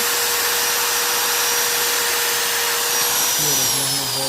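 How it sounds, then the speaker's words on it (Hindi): An electric drilling machine boring a hole in an electrical board sheet, a loud steady high-pitched motor whine throughout that shifts in pitch near the end as the bit bites. "इसके लिए हमें ड्रिलिंग मशीन की आवश्यकता पड़ेगी"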